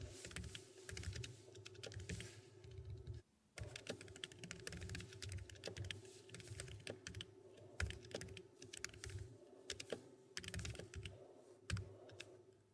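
Fingers tapping out PHP code on a computer keyboard, a steady stream of quiet, close clicks with a brief pause, no voices.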